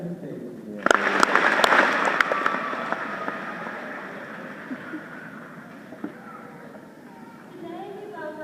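A graduation audience at a military academy breaks into applause to welcome the valedictorian, a loud burst opening with a few sharp claps, then a dense wash of clapping that slowly fades as a voice carries on.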